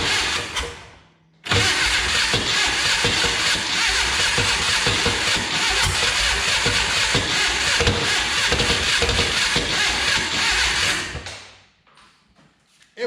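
An abandoned 1962 dune buggy engine, fed a little gas down the carburetor, cranks steadily for about ten seconds with a loud, even churning rhythm, then stops without catching.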